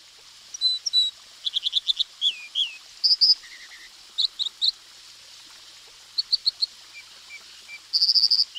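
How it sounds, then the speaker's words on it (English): Bright, high chirps and short trilled phrases from an American dipper, delivered in quick bursts with pauses, over a soft steady rush of a stream in Yellowstone. "So you put a microphone out on a rock or something in the stream. And I did that in Yellowstone to record a dipper"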